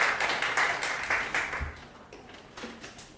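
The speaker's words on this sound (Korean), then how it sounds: "다 같이 박수 한번 하시고 들어가시겠습니다." A congregation at a church service claps together, a quick run of hand claps that start fairly strong and taper off, with a scattered few claps near the end.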